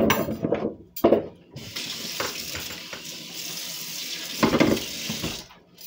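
Carrots rinsed under a running kitchen tap, with a steady rush of water splashing into the sink and a few knocks and rubbing sounds as the vegetables are handled, loud and close.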